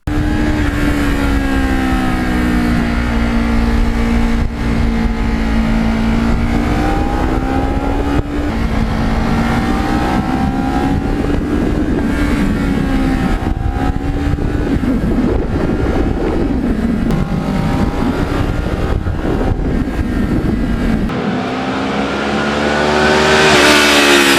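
A Kawasaki Ninja EX650R motorcycle engine drones loudly and steadily while riding, its pitch rising and falling through revs and gear changes, with rushing wind noise throughout and a brief swell near the end.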